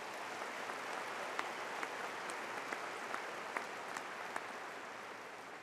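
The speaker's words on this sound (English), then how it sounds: "Let's give our platform party a round of applause." Audience applause for the platform party at a December university commencement ceremony: a dense, steady wash of many clapping hands filling the hall at moderate volume, with a few sharper individual claps standing out and no talking.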